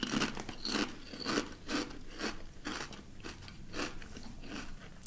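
Someone crunches cauliflower potato chips close up, a series of crisp bites and chewing crackles repeating at a steady rhythm, with no talk.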